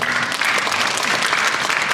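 Steady, dense applause from a crowd at an action-actor audition launch ceremony, filling the whole stretch at an even, loud level without pauses.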